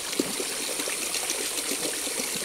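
Water runs and trickles steadily into a container while freshly harvested cucumbers are washed, with a continuous splashing, gushing wash and small plops throughout.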